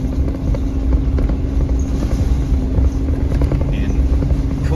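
A Ford Ranger with a 3-litre V6 and 10-speed automatic tows a heavy trailer up a steep, narrow gravel road, its engine droning low and steady alongside crunching tyres and wind noise.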